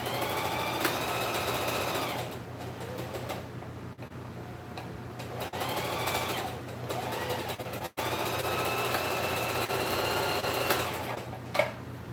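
A sewing machine stitching fur for a mask, heard in three runs of steady rapid ticking whir separated by brief pauses, with a constant low hum underneath.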